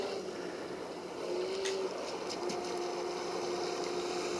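A Traxxas Spartan RC boat runs at low throttle on the water, giving a faint, thin electric motor whine that rises briefly, set against steady background noise.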